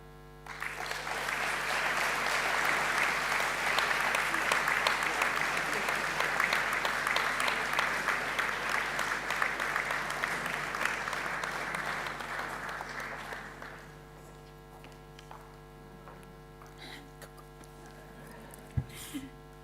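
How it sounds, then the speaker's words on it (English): Sustained applause from a graduation ceremony audience welcoming a family, steady and full for about thirteen seconds before fading out to quiet room hum. "Sous vos applaudissements"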